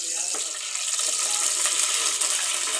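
Hot sesame oil sputtering and crackling in a pan after water hit it, a steady, fairly loud sizzle that runs throughout with small pops, while someone speaks faintly beneath it.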